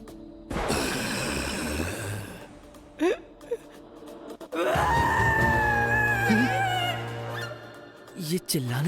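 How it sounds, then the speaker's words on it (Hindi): Screaming from someone under attack in an anime episode, a strained voice that wails and groans, with bursts rising and falling over about nine seconds, fairly loud and close, with short gasps and pauses between the cries. "ये चिल्लाने की आवाज, लगता है इस मंजिल पर किसी पर हमला हो रहा है।"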